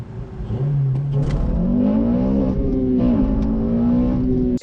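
A 2-liter VTEC engine in an eighth-generation Honda Civic Si revs hard, its drone climbing steadily in pitch and holding loud and close, with a brief dip before it cuts off abruptly.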